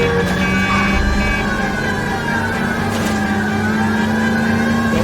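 A car speeding hard during a chase in L.A. Noire, engine revving loud and close with a steady whine, with a siren-like tone running underneath.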